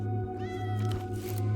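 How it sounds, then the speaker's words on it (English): A cat meows once, clear and drawn out, in a video game over a steady low musical hum. "You got to pet the cat."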